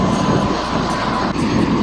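Loud, close helicopter engine roar as it lifts off carrying passengers, a continuous broadband drone with faint rotor pulsing, steady throughout and without talk.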